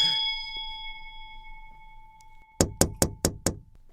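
A single bright chime tone rings out and slowly fades, then five sharp knocks land in quick, even succession.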